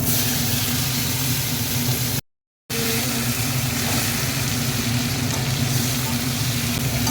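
Bay leaf, cumin and chopped tomato fry in a pan for a banana flower dish, a steady close sizzle that carries on throughout, with one brief cutout partway through.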